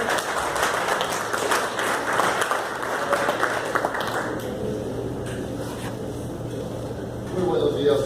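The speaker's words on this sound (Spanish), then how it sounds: "Le damos un aplauso de bienvenida al taller." Applause welcoming a priest to a church liturgy workshop in Tijuana fills the room for several seconds, thinning out toward the end, with voices speaking over it.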